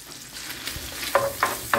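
Shrimp and bacon fry in a pan for chipotle shrimp, with a steady sizzle broken by several sharp scraping stirs of a utensil against the pan.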